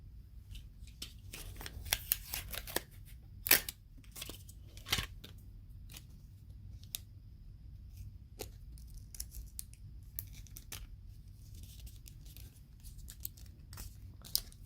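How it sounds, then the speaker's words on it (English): Tape is pulled and torn close by, making dry crackling rips and sharp snipping clicks scattered across a quiet room with no talking. The loudest pulls come early, followed by lighter crinkles and taps. "I have the power of tape. I'm gonna use it."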